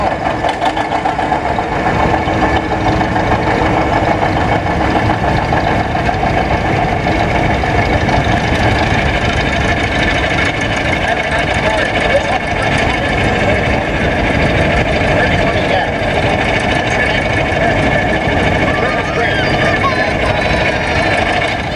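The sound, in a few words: 1959 530 electric start diesel two-cylinder tractor engine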